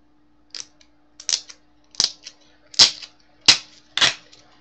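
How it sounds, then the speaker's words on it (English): Duct tape is pulled off a roll in six short, sharp ripping bursts at roughly regular intervals, close and distinct against a quiet background. "Just gonna grab some tape right here."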